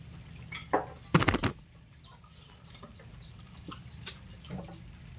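A few soft Rhode Island Red hen clucks and a brief flurry of wing flaps, fairly quiet, with small scratchy rustles in a calm setting.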